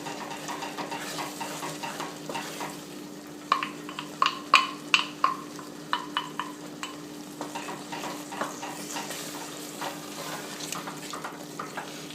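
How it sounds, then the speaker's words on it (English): Egg is stirred into lečo, a Czech pepper and tomato stew, in a pan, with a steady low sizzle under a run of sharp utensil scrapes and clinks that bunch together midway, then thin out. "And now you want to stir"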